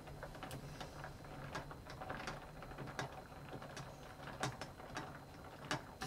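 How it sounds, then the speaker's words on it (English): Ice rattling and clinking as a Chartreuse Swampwater drink is stirred in a glass, a steady run of close, bright clicks and knocks with louder taps now and then. "Let's add some ice. Give it a stir."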